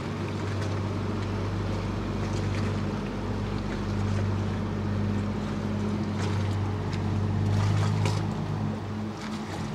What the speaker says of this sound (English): One of the numerous vaporetto, the city's buses, water buses.